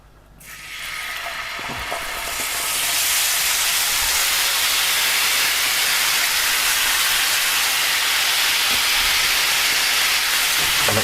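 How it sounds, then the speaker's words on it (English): Ginger garlic paste hits a hot pan for chana saag masala, bursting into a loud, sustained sizzle and hiss that swells within the first seconds and holds steady. "add our ginger garlic paste"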